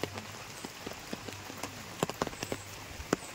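Irregular drips and taps of monsoon rain patter close by in Sangameshwar, Konkan, uneven in rhythm, with no voices.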